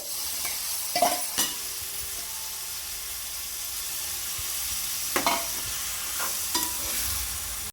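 Mint leaves frying with softened tomato and onion in a pan, a steady close sizzle broken by a few sharp spoon-stirring scrapes near the start and toward the end.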